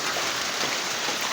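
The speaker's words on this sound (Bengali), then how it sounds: "টিপ টিপ করে বৃষ্টির ফোঁটা পড়ছে" Light rain falls on an afternoon outdoors among greenery, a steady, even patter of raindrops forming a continuous hiss with no voices.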